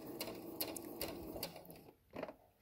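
A sewing machine stitches a fabric face mask, its needle chattering in quick rapid bursts with a brief pause near the end before a short final run; close and fairly quiet, no talking.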